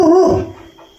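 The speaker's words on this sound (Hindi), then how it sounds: "ये तो ऐसे भौंकता रहता है" A dog gives a single loud, whining yelp that trails off within a second, heard alone outdoors at night where a leopard had tried to attack the dogs.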